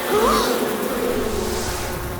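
Swarm, the bee-themed villain in a Spider-Man cartoon, brings a dense, loud insect buzz that hums continuously and close, swelling slightly at the start and holding steady with no voices over it.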